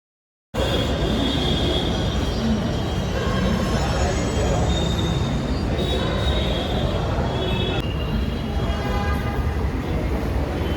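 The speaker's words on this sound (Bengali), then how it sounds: "সিঁড়িতে উঠতে উঠতে মেট্রোটা চলে গেল" A metro train pulls out of a station on a winter morning, a loud continuous rumble of wheels and carriages with faint squealing tones, starting abruptly after a brief silence.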